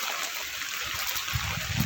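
Steady rain pours down in an even, continuous wash of hiss, with low trickling and splashing as water runs into vessels set out to collect it; no talk.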